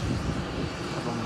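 A plane at Manchester Airport gives off a steady, broad engine roar from moderately far away, continuous for the whole moment with no clear speech.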